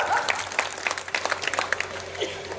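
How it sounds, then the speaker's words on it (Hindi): Audience applause at a Hindi poetry recital, a short burst of scattered clapping from a small crowd that fades out within a few seconds. "बजाओ ताली।"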